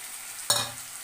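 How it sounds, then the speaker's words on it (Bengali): Ingredients dropped one by one into hot oil in a kadai for chilli chicken, fried rice and pakora, giving a sudden sharp sizzle that flares loudly and then settles into a softer crackling fry. "এখানে এগুলো সব ভেজে নেবো এক এক করে"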